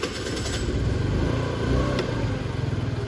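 A 50cc Venom scooter that has been sitting for a long time fires up on a cold start after priming, its small engine catching and settling into a close, steady, throbbing idle.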